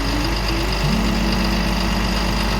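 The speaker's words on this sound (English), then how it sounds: "whilst the engine's still running, there's the engine right there" A MAN TGM 18.250 rigid truck's diesel engine idles close by in a steady, low, even rumble with a faint knocking pulse, continuous throughout and with no voices.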